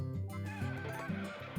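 A horse in the video game Harvest Moon: A Wonderful Life gives a short, clear whinny over game background music, a quick wavering neigh lasting just over a second.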